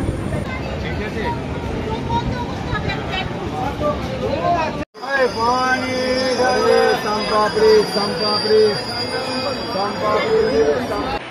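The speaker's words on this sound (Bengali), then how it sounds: "দেখো ট্রেন এখন আস্তে আস্তে যাচ্ছে।" Train moving slowly through a junction in India, with loud wheel squeals and clanking railcar rumble running throughout, close by, and voices chattering underneath.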